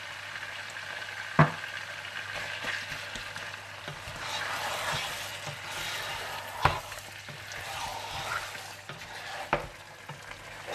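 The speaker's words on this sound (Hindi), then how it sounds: "आप इसमें डाल दें नमक, चिकन क्यूब और पिसा हुआ अदरक लहसुन डालकर अच्छी तरह से भून लीजिए" Mutton pieces fry in a pot with salt, a chicken stock cube and ground ginger-garlic paste, a steady moderate sizzle broken by a few sharp scrapes of a stirring spoon, with no talking.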